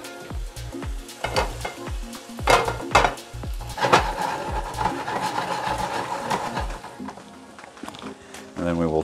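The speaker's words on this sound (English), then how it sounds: "You hear them lightly sizzling when they drop." Steaks dropping into hot oil in a pan, followed by a steady, fairly loud sizzle with clanks and scrapes of cookware as a person talks over it.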